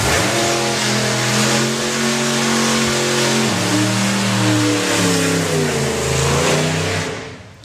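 Supercharged old school hot rod drag car, an El Loco entry in a Supercharged Outlaws class, revving loudly up close with a throaty rising and falling engine note and shifting pitch, fading slightly at the end.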